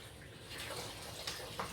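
Distilled water pours into a container in a soft, faint, continuous trickle with small splashy bursts near the end, close and quiet with no talking.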